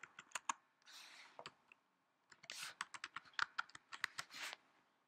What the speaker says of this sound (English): So you type in your password.